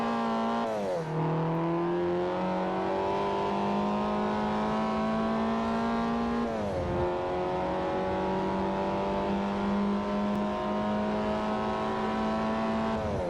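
Race car engine from the Forza Motorsport 4 video game, a steady loud drone that dips as the car shifts gears and then climbs again, with no talking.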